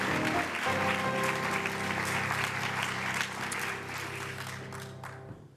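Applause from the audience at an awards ceremony for women in construction and engineering, dense sustained clapping from a sizeable crowd that gradually thins and fades out at the end.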